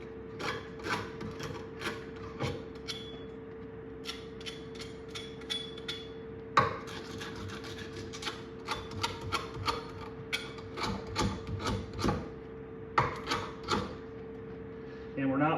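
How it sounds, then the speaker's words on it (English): Emery cloth rubs burrs off a cut copper pipe: quick, rhythmic rasping strokes repeated in short bursts, close and fairly crisp, with a voice heard at times. "We just take our emery cloth here. We got a little bit of burrs from the grinding wheel."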